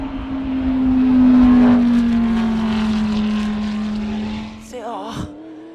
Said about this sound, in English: We're going to turn it up so you can have a listen to this beautiful engine underneath this Audi.